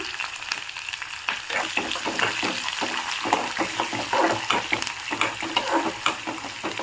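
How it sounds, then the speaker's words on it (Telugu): Onions, coriander and dried chillies fry in a pan with a steady, close sizzle, overlaid by repeated scraping stirs and crackles. "కొంచెం బాగా బ్రౌన్ కలర్లో ఫ్రై అవ్వాలి"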